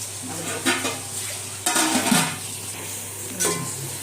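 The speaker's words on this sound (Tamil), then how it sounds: "இது நல்லா வதங்கட்டும்" Onions and spices for a 1 kg batch of chicken biryani cooking in a home kitchen pan, with a few clattering stirs of a spoon against the pan over a low steady sizzle.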